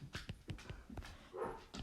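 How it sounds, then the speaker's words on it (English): A neighbor's dog barks repeatedly in the distance, about half a dozen short, fairly faint barks in an uneven rhythm, heard alone without talk. "the dog is barking."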